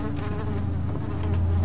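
Insects buzz steadily and closely through the whole stretch, a continuous droning hum of flies circling in the Amnesia horror video game, with no talk over it.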